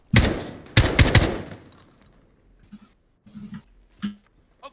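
Gunfire in the Warzone video game: two sharp, loud bursts of automatic fire at the start, followed by fainter scattered shots and clicks.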